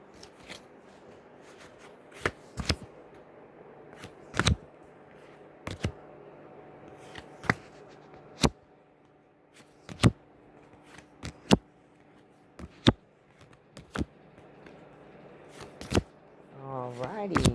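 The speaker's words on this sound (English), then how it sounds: "So I'm putting the cards down." Playing cards being shuffled and set down, heard as a run of sharp, separate close-up snaps and taps at an irregular rhythm over a low, quiet background, with a brief riffle near the end.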